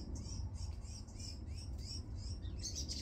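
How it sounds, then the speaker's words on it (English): Several birds squabble in a garden bush, giving rapid overlapping chirps and squawks in repeated bursts. The calls sound close over a steady low outdoor rumble, with no talking. "I've got some birds fighting in the bush."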